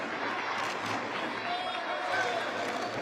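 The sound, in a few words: Taipei fans cheering at a taekwondo match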